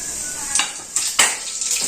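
Cumin seeds and garlic sizzle in hot oil in a pan for a vegetable dish, a steady bright hiss with a few sharper spits and utensil clinks, fairly close.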